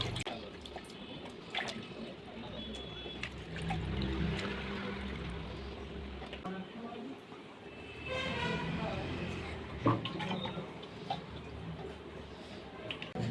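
Pieces of aar fish are rinsed in a bowl of water, with sloshing, splashing and trickling drips close by that rise and fall throughout.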